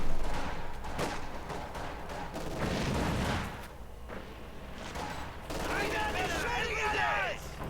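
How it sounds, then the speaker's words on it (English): Battle in Company of Heroes 2 with MG42 machine gun and rifle grenade fire, distant rattling bursts and dull booms mixed under a caster talking, with a sharper whistling sound near the end. "MG42, rifle grenade going out"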